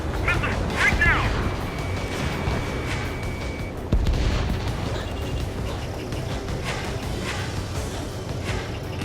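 Missile launch and blast in the jet combat game Ace Combat 7: a rising whoosh near the start, then a sharp boom at about four seconds over steady roaring jet engine noise, with radio chatter throughout.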